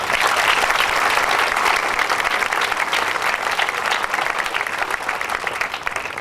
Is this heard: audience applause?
yes